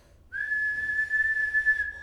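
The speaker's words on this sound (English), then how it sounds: "You hear the whistle." A single sustained whistle blast sounds in a busy train station, a steady piercing tone that starts abruptly and holds for about a second and a half over low background rumble.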